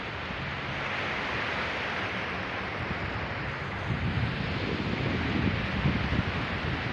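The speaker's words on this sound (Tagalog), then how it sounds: "sobrang laki ng mga alon guys" Big ocean waves break and wash along a beach in a steady broadband roar with wind noise, swelling louder toward the end; no voices.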